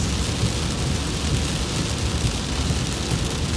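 A torrential, flooding downpour on a road near Andalusia, Alabama hisses and roars steadily, loud and close, with a low rumble beneath the rushing rain.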